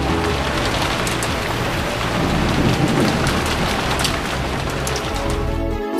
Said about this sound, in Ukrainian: Це звичайний український дощ, і він також приємний для слуху як потріскування багаття